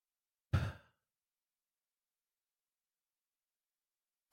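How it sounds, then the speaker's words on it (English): A single deep sigh-like breath drawn in and let out, close and soft, followed by a long silence before another breath begins at the very end. "Take a nice big deep breath."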